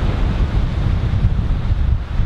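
Strong wind buffets the microphone in low, rumbling gusts, continuous and close, with no voices.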